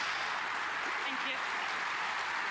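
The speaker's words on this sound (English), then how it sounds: "a deserved round of applause there for the referee" A snooker crowd at the 2024 German Masters final applauds the referee with a dense, steady wash of clapping that holds evenly from start to finish, with only a faint voice beneath it.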